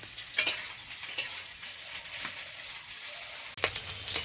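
Steady oil sizzle of bitter gourd frying in a pan, with a few soft stirring scrapes and clicks.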